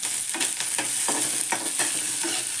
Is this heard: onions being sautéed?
yes